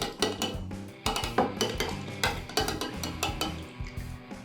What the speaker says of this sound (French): On mélange pour rincer la cuillère.